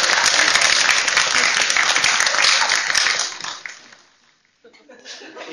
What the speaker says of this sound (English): Stomping and clapping again, all right?